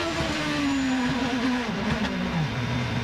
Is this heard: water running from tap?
no